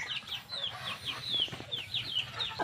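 An Aseel rooster weighing about four kilos clucks in short repeated calls, close and fairly loud, amid other chickens and chicks on a farm, with no talk.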